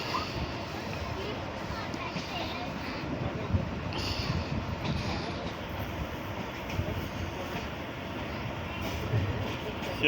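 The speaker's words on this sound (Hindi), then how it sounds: "जहां पर एक एक्सप्रेस गाड़ी उधर से आ रही है।" An express train rumbles steadily past at close range near a station on the Faisalabad to Lahore line in Pakistan, a continuous loud roar of wheels and carriages with faint rhythmic clatter throughout.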